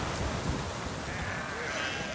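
Lacaune dairy ewes on a farm in a small hamlet in Midi-Pyrénées bleat faintly amid steady outdoor background noise, with no clear voices.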